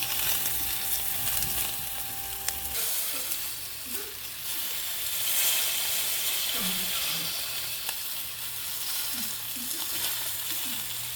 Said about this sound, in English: Time to sear that side off, and then I gotta sear this side over here off.